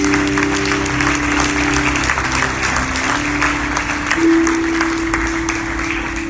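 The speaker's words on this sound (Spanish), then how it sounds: "Dale un aplauso al que vive." Congregation applause during a church worship service, a dense, sustained wash of clapping from many people that stays loud and steady throughout, with a held musical tone sounding underneath.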